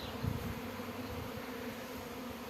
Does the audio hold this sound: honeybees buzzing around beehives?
yes